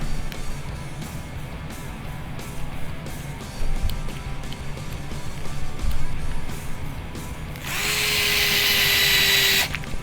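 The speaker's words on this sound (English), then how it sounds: "Put the sway bars on. Don't run those all the way in with the drill." A power drill drives sway bar screws into a Tekno NB48 2.1 RC buggy kit, with soft handling clatter under a steady background hum before a loud, high drill whine takes over for the last couple of seconds.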